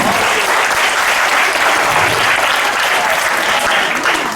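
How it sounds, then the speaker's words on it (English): Loud, dense applause from a seminar audience fills the room continuously, a thick wash of many hands clapping at once with no break and no voices standing out. "Big clap."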